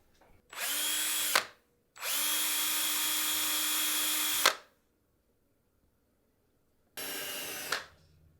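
A power drill whirs into a guitar in three separate bursts, a short one, a longer steady run, then another short burst, with quiet pauses between.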